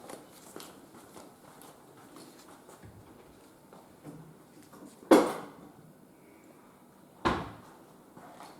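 A cupboard or drawer in a home kitchen bangs shut twice, sharp and close, about two seconds apart, amid quiet rustling while a cook fetches a curved boning knife to skin a turkey breast.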